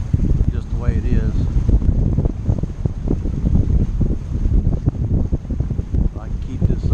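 Wind gusts buffet a sailboat out on a lake, with blustery rumbling noise striking the microphone continuously throughout. Someone talks over the wind.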